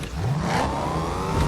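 A car engine in Fortnite whirs up briefly with a rising revving tone, close and moderately loud, lasting only a moment with no talking.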